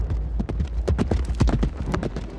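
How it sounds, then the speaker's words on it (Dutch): A horse's hooves clip-clop in a quick, uneven series of sharp strikes, close and loud, with no talking over them. "dit is mijn paard George"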